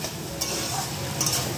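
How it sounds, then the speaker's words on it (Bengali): Taro frying with Kashmiri chili powder in a pan, a close, steady sizzle with the soft scrape of stirring over it. "একটু ভেজে নেব 4-5 মিনিট"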